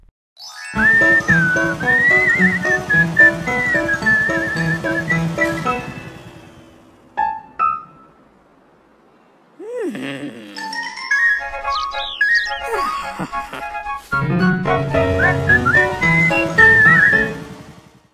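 Melodic whistling rises and falls in bright trills over a gentle musical backing, pausing midway for a few sliding whistle notes before resuming.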